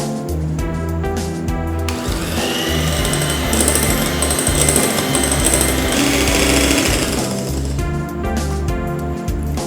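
An electric mixer whips cream for a mango mousse cake, a loud, steady mechanical whir that roughens and intensifies in the middle, then settles again. No one speaks over it.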